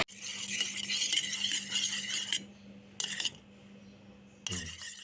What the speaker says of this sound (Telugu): త్రీ ఎగ్స్ వేసుకుని బాగా బీట్ చేసేసుకోవాలి